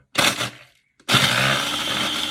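An electric grinder pulverizes biscuits for a black garlic cheesecake base, a loud whirring burst that stops briefly, then roars back in a sustained, close, harsh grinding.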